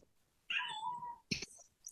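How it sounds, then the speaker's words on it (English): A house cat lets out a loud, drawn-out meow, then a second sharp cry follows it, close and alone with no talk over it. "my cat is screaming automatically"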